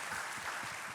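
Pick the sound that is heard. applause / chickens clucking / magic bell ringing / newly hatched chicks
applause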